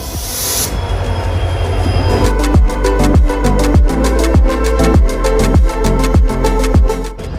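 A train hauled by a WDG4 diesel locomotive at Barabanki Junction, loud and close, with a rapid regular clickety-clack of wheels over rail joints and squealing wheels, a brief hiss at the start.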